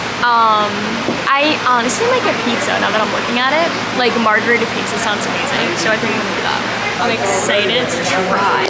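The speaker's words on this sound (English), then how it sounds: "sorry for the plane engines in the back. The fans that sound like planes." Loud restaurant ventilation fans roar continuously like jet engines, a steady broadband whoosh filling the background while a person talks over it throughout.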